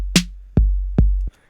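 Trap beat in which booming 808 kick hits alternate with snare hits placed too close together, giving a rushed, cramped rhythm; a few loud, punchy hits over a sustained low sub-bass, with no talking.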